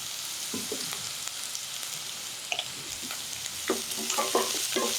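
Boiled peas being stirred into rice frying in a pan, a steady sizzle with scraping stir strokes that grow busier toward the end, close and alone with no talk.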